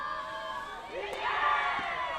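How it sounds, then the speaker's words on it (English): Fielders in a women's T20 international cricket match between Bhutan and Myanmar shout and cheer the bowler, a loose chorus of voices that swells in the middle and stays fairly distant. "You can hear the fielders inside the 30-yard shouting today, cheering up the bowler"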